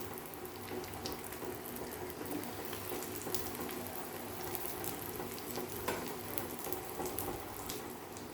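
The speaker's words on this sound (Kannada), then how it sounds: "ಎಣ್ಣೆ ಕಾದಿದೆ ಈಗ ಒಂದೊಂದೇ ಸಮೋಸನ ಬಿಟ್ಟುಬಿಡ್ತೀನಿ ಅದರಲ್ಲಿ" Bread samosas fry in heated oil on a gas stove, producing a continuous dense bubbling sizzle with scattered small crackles and pops, steady and fairly close, without speech.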